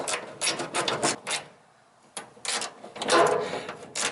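A wrench ratchets a bolt at the wheel well of a 1970 Volkswagen Type 3 Squareback. Close, sharp bursts of ratcheting clicks come in quick strokes, stop for a brief pause midway, then resume.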